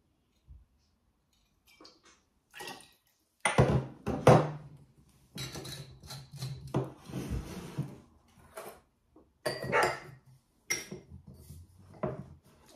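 Cocktail with a measure of Cointreau being mixed, giving intermittent clinks and clatters of glass and utensils, close and moderately loud, in short bursts with pauses between.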